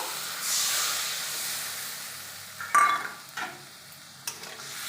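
Sour mango water poured into spices frying in a pan for a tangy fish curry, a bright hissing sizzle that swells and fades, followed by several sharp stirring scrapes and spatters.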